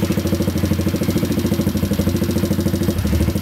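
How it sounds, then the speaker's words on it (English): A Kurz RT1 enduro pit bike engine runs close by with a steady, rapid pulsing chug that holds a constant rhythm throughout. "Let's try starting it."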